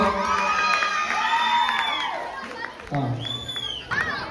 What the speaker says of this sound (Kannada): ದೇವರಾಜ್ ಅವರಿಗೆ ಒಂದ್ಸರಿ ಜೋರದ ಚಪ್ಪಾಳೆ ಬರಲಿ ಗೈಸ್